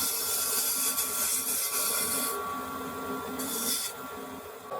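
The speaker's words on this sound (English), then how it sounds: "So now I'm just using the number 1 hollower" A wood lathe spins as a number 1 hollowing tool cuts inside a cracked wooden vase, giving a continuous close whirring hum with a scraping hiss that cuts out partway and briefly returns, no voices.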